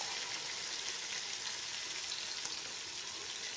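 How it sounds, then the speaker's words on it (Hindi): Tomatoes and green chillies fry with spices in a pan, giving a soft, even hiss of sizzling oil that holds steady with no voices over it. "2 बड़े साइज़ के टमाटर और 2 सब्ज़ मिर्चें, इनको हम अच्छी तरह फ्राई करेंगे"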